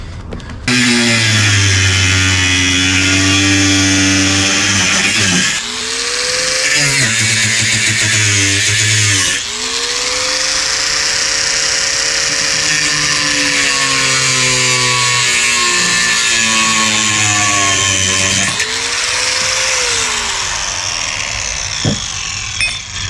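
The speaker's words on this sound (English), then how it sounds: "now I'm just about to cut them with my least favorite tool in the world, these little cutting disc on a grinder" A small cutting disc on an angle grinder bites through bolts, a loud, sustained high-pitched whine that dips and rises as the load changes, with brief pauses between cuts.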